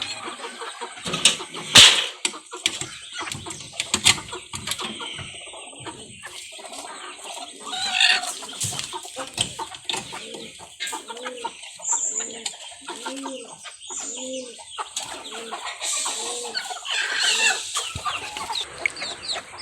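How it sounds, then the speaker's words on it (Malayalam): Native hens cluck and murmur close by in a coop in a series of low repeated calls, with scattered rustling and brief sharper clucks, no talking. "ഇത് എൻ്റെ രണ്ട് നാടൻ കോഴികളാണ് ഇവ അടയിരിക്കുകയാണ് കൂട്ടിൽ"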